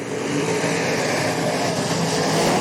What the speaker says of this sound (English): Everybody chasing down the 11B of Brian Baker as he slides it into turn number 3.